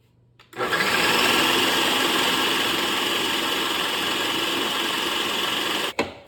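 An electric mixer beating cheesecake batter runs in one steady, continuous whir from start to finish, loud and close, with no talking over it.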